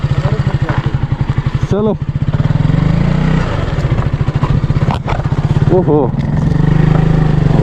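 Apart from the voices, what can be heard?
KTM motorcycle engine riding and slipping on snow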